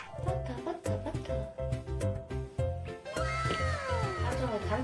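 A young cat meows repeatedly while getting a vaccination at the vet, a series of close, drawn-out, wavering cries that grow longer near the end, with people talking softly underneath.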